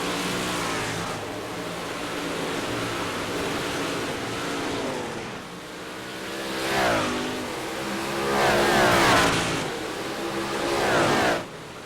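Race cars roar around the high side of the Weedsport speedway through turns 3 and 4 during a B-Main Bandits National Tour event, engines droning steadily then swelling in loud revving surges as cars pass close by.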